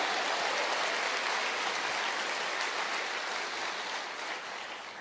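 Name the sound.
congregation applauding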